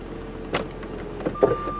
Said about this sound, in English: the quarter panel windows went down on its own